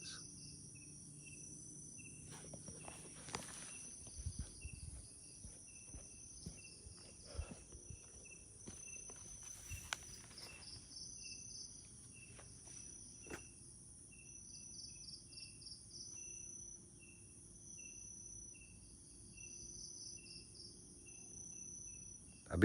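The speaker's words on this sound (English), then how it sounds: "The crickets." Crickets chirp steadily through a night forest, a faint, far-off pulsing trill that repeats in regular bursts for the whole stretch, with occasional soft rustles and no voices.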